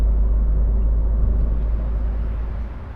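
A Citroën C4 Cactus engine gives off a steady, low, close rumble that fades slightly near the end, with no talking over it.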